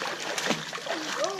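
A child kicking and splashing in a swimming pool during a swim lesson, quick soft splashes and water sloshing close by, with an adult voice talking over them.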